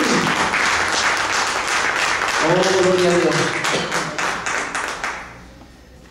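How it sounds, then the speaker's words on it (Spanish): Church congregation applauding at a sermon service, dense sustained clapping that stays loud before gradually fading out, with a voice exclaiming praise over it midway. "¿Por qué no le da un aplauso al Señor?"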